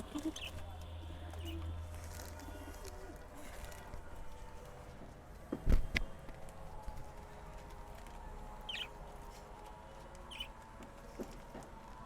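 Pigeons peck eagerly at grit with soft, scattered tapping and faint intermittent cooing, over a steady low hum and a brief louder knock midway.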